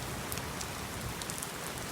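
Heavy storm rain pours down in Miami, a dense, steady, even hiss of falling water that fills the whole stretch without pause, moderately loud and close, with no voices.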